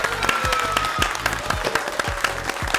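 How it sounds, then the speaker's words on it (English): Audience applause for the performers Slay My Ability at the opening of an Australian TV show, loud steady clapping with scattered sharp claps and a bright tone running through, no talking. "Keep that applause going for Slay My Ability."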